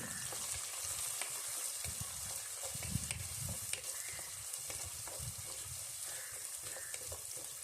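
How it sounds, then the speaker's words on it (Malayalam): Small shallots fry in hot oil for a Kerala mackerel curry, a soft, continuous sizzling crackle with occasional light stirring knocks, close and steady throughout. "അപ്പം ഉള്ളി നന്നായിട്ടൊന്ന് മൂത്ത് ചുമന്ന് വരട്ടെ"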